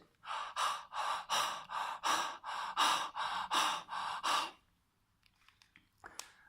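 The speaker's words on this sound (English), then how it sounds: "Breathing is this." A person demonstrates breathing with nine loud, rhythmic, close-up breaths in quick succession, each a sharp airy rush, followed by about two seconds of near silence and a faint click at the end.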